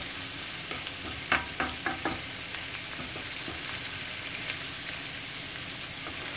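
Shrimp seasoned with salt and pepper sizzle in a pan, a continuous close frying hiss broken by several clustered clicks and scrapes of stirring early on, with no talking.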